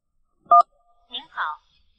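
A single short DTMF keypad beep as a phone number is dialed, followed by brief soft speech-like sounds, with near silence around them.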